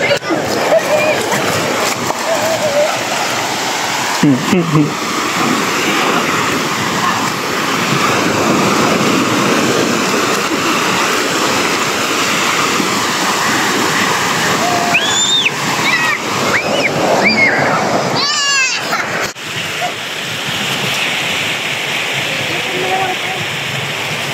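Sea waves wash onto a beach in a steady, loud surf roar, with a family talking and calling out over the water noise and brief splashy bursts near the end.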